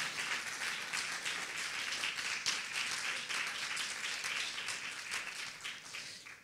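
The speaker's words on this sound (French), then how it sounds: "On peut applaudir vraiment le Seigneur." An audience at a French church conference applauds steadily, a dense wash of many hands clapping at moderate distance, sustained throughout with no pauses.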